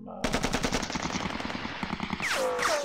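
Rapid machine-gun fire in the wargame Sealion '40, a dense burst of repeated shots close up, followed by a short falling whistle-like sound effect near the end.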